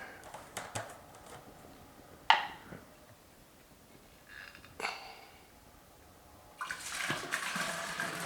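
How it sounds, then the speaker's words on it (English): Juices are poured into a container for making fruit punch wine, a faint splashing and gurgling stream with scattered bumps and handling knocks, growing into a steadier pour toward the end, heard close by. "let's go ahead and start adding in our juices"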